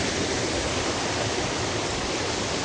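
Steady broadband rush of mountain mineral water pouring and flowing over carpets being rinsed, continuous and loud with no talk.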